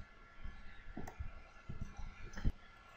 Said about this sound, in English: Click OK and